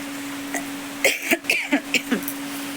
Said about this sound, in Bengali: কাশিটা এখনও প্রচণ্ড কাশি হচ্ছে কাশিটা কিছুতেই কমছে না